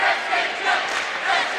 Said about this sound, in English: the North crowd got into it, they've drowned this crowd out